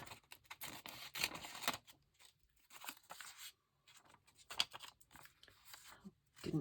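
Scissors cutting a scrap of paper or card for a junk journal, a quiet series of short crisp snips and crunches in irregular bursts, close by with faint room sounds between cuts.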